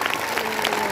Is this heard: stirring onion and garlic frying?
no